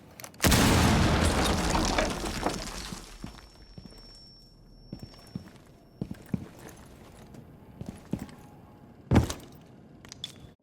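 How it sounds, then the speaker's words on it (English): A hatch dropped in the Rainbow Six Siege video game lands with a loud, sustained crash and rumble, then fades into scattered clatters and smaller thuds, with one more sharp bang near the end. "So I'm gonna drop this hatch. I'm gonna let you guys hear what it sounds like."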